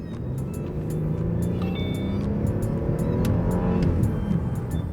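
An Audi A8 55 TFSI accelerates under a steady, throaty engine note that builds smoothly over several seconds, heard close from inside the car with road rumble and no talking.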